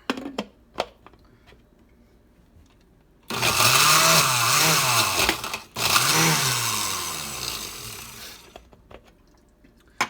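An Oster 14-speed blender runs in two pulsed bursts, a loud whirring motor roar lasting a few seconds, cutting out briefly and starting again before stopping, with quiet clicks and handling sounds before and after.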